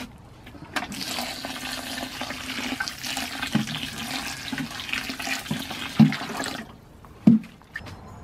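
Water poured onto seed starting mix, a continuous splashing pour lasting several seconds, followed by a couple of soft thumps.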